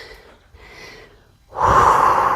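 A person breathes in and out during a yoga-inspired calisthenics home workout: two soft, airy breaths followed by a louder, forceful exhale that stands alone, close to the microphone.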